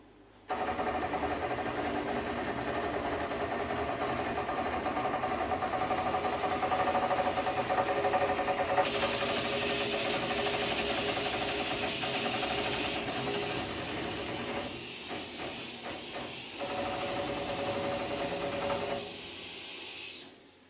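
A stitching machine sews 2 millimeter stitches with a steady whirring, rapid mechanical hum, close and continuous, with a few short pauses and changes in pace toward the end.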